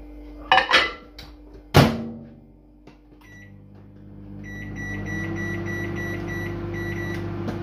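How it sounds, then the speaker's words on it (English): Door clunks and a few button beeps are followed by a steady low hum as a microwave oven starts heating a beef hotpot ready meal, with the beeps repeating over the hum. "now it's going straight in microwave for 10 minutes"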